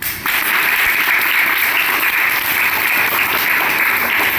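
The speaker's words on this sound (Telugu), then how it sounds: "Very good, claps." Government schoolchildren in a classroom clapping together, a loud burst of dense, sustained applause that starts sharply and continues steadily to the end.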